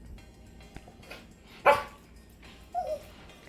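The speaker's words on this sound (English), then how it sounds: "this little clip of my dog not knowing how to sit when he's very excited for a treat" A small dog barks sharply once and then gives a higher whimpering yip a second later, both close and clear in a quiet room, excited while waiting for a treat.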